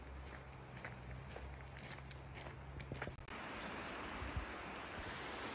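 Lakeshore ambience on a Lake Winnipeg beach at Victoria Beach, Manitoba: steady wind and gently washing water, with a few soft footsteps nearby and no talk.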